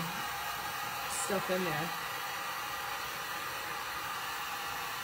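A hair dryer runs as a constant, moderate hiss to dry a glossy finish on an upcycled knife block, with a brief spoken remark over it.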